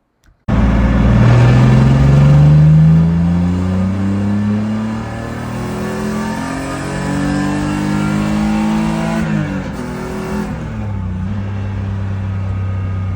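A 2004 BMW E46 with the MS45 engine management makes a full-throttle acceleration pull, its engine note rising loud and close, then dipping at a shift and climbing again before easing off near the end.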